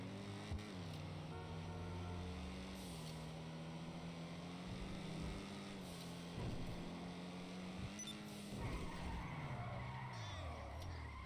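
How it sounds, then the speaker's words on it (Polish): A steady engine drone with shifting pitch as a Karin Previon car revs and changes gears in GTA Online, mixed with tire skids, continuous and fairly close. "posłuchajcie sobie jak ten samochód chodzi. No, dźwięk silnika, nie?"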